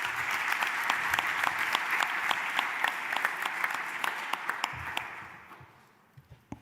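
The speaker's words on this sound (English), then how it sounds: "I would like to ask for a round of applause" Audience applause at a statistics conference day, a steady round of many hands clapping that fades out toward the end into a few scattered last claps.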